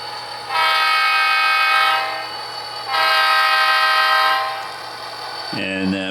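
A model maintenance-of-way train loaded with ties runs on layout track, its sound unit blowing two long, loud horn blasts, followed by a brief clank at the end.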